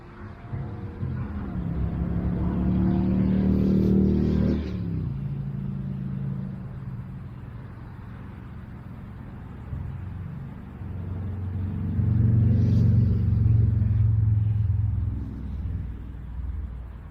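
Two Brightline passenger trains pass each other during a crew change on a construction test run, a deep rumble that swells, eases, then swells again as each train goes by nearby, with no talk.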